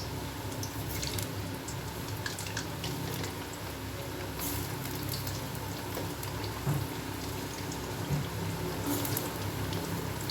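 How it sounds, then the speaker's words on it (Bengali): Potatoes frying in hot oil, a steady soft sizzle with scattered crackles and pops, fairly quiet and continuous. "আলুগুলো ভেজে নেব।"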